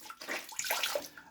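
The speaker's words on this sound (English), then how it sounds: "they put a little bit of hot water on." Hot water splashes briefly into a basin for a wet shave, a short close burst of pouring and sloshing with no voices.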